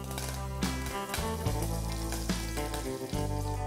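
Curry leaves sizzle steadily in hot ghee with crisp, continuous frying crackle, close and fairly loud, while music plays over it.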